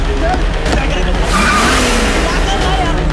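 A car pulling away with its tires skidding and squealing, heard loud and close over a steady engine roar, with a voice talking over it.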